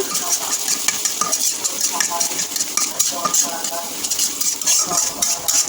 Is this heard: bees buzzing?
no